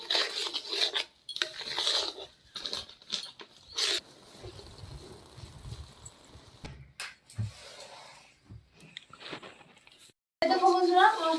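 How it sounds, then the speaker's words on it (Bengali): A spatula scrapes and clatters in a pan as a spice paste, loosened with a little water, is sautéed for a Bengali mustard boal fish curry; the scraping comes in uneven bursts with short pauses between them. "এবার আমি মশলাটাকে ভালো করে কষিয়ে নেবো"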